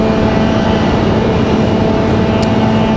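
A Delta airliner, flight 3238 to Atlanta, departs Raleigh-Durham International Airport with a loud, steady jet engine roar that holds constant and close throughout.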